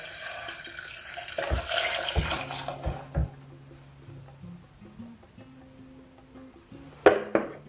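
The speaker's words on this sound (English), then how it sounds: "we're going to pour this into the pot" Custard (crème pâtissière) pours steadily into a pot, a sloshing stream followed by quieter trickling, soft metallic clinks and a sharp clatter near the end.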